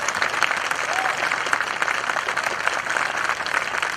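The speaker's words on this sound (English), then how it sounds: "Cheers for them. A huge applause." Steady, dense audience applause at a school event honoring students, continuous and fairly loud throughout with no pauses.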